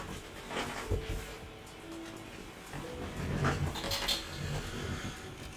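A dog whimpers and pants softly in a room during a Warhammer 40K Eldar Revenant Titan model build, with faint, scattered whines and snuffles over low background noise and no talking.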